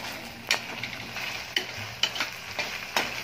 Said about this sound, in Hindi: अब हम इसे अच्छी तरह से मिक्स कर लेंगे